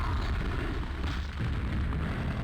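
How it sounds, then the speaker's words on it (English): A gratuitous explosion in the video game Quake, heard as a dense, steady rumbling blast of low noise that fills the whole clip at moderate level with no talk. "And then he blows up. And then it's a gratuitous explosion."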